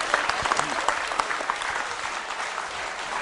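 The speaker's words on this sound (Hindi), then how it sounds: "तालियां जोरों से बजाइए" Applause fills the hall at a school quiz show as the audience claps for a contestant, dense and steady with a few sharper claps standing out, no voices on top.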